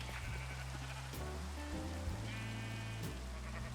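Rain falling in the video game Minecraft, a quiet, steady hiss mixed with a sheep's bleat and other low tonal game sounds underneath.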